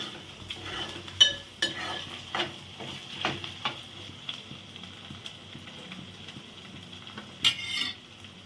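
Taro root pieces stirred and fried in oil in a pan, with repeated scraping clicks of a spoon against the metal over a low, steady sizzle, fairly close and without talk.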